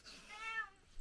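A cat lets out a single short meow, faint and slightly distant, with quiet room tone around it and no talking.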